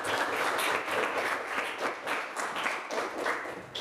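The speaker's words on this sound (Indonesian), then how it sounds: "kita berikan aplaus" Students in a history classroom applaud, a steady, fairly close wash of many hands clapping together for nearly four seconds without anyone talking.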